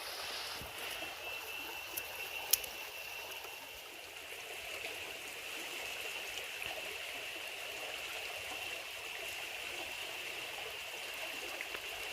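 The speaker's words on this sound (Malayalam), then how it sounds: "നമ്മൾ ഇതിലത്തെ വെള്ളം മൊത്തം നൈസായിട്ടൊന്ന് വറ്റിച്ച് കളയാം." Water draining out of a pot set as a fish trap, a steady trickling, streaming flow that runs evenly at moderate loudness, with a couple of small knocks early on and no talk.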